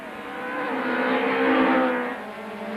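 Touring race cars at Kyalami in 1998 climb up through the gearbox, a steady engine drone swelling louder toward the middle and easing off again as the cars run on without a break.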